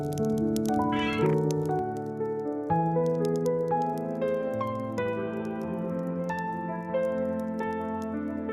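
A kitten cries out in the snow with plaintive meows over a steady tonal background, the calls repeating through a short stretch.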